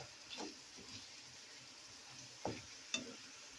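Seasoned taco meat with paprika stirred in a pan over low heat, a soft steady sizzle with a few sharp scrapes of the utensil against the pan.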